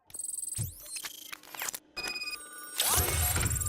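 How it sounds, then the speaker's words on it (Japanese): A telephone rings in RoboCop: Rogue City, a bright electronic trilling ring in short repeated bursts with brief pauses, loud and close, mixed with other game sound effects. "電話来たけど。"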